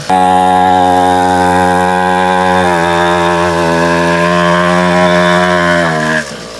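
A small 50cc dirt bike engine bought from Temu runs steadily after a pull start, its loud buzzing drone holding close and constant for about six seconds before cutting off abruptly near the end.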